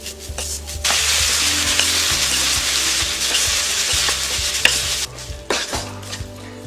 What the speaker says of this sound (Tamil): பாத்திரத்தில் ஒட்டாமல் வரணும். அது வரைக்கும் நம்ம இது மாதிரி கலரிட்டே இருக்கணும்.